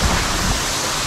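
Steady broadband rush of a waterfall in Karbi Anglong, heard close up as a brief, even roar with no voices.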